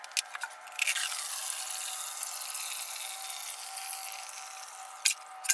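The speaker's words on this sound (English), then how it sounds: "Now we just need to dump out this water." Water or vinegar is poured out in one steady stream that splashes and trickles for several seconds, with a few small clinks at the start and near the end; the sound is fairly quiet and close.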